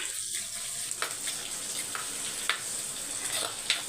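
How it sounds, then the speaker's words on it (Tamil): Crushed garlic sizzles in a pan with a constant bright hiss, punctuated by scattered small pops and crackles every second or so, close up and without any talking. "ஒரு கட்டி பூண்டு நச்சு வச்சுருக்கேன் அதை சேர்த்துடுங்க கொஞ்சம் வந்து பூண்டு ஃப்ரை ஆகட்டும்"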